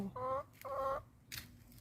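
Backyard laying hens give a few short, close, soft clucks in a quick series, with brief pauses between the bursts.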